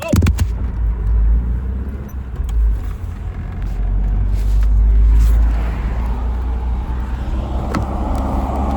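Steady low rumble of a car interior while driving on the road, continuous engine and road noise throughout with no talk.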